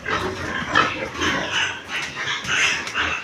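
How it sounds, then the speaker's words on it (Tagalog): A crowded piggery full of pigs and sows gives off a continuous jumble of grunts, oinks and squeals at close range, rising and falling in loudness without pause. "Ang dami ng baboy."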